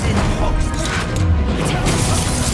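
Incendio fire spell cast in the Hogwarts Legacy video game, a loud, dense crackling burst of flame and impact noise that fills the whole moment without pause.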